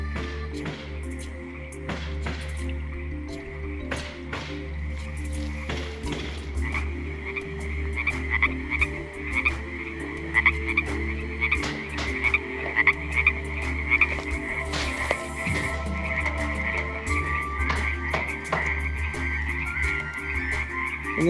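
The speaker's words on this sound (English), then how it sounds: "Listen to all these frogs." A dense chorus of frogs croaks continuously outdoors at a trickling creek, layered trills and calls with a steady low background hum.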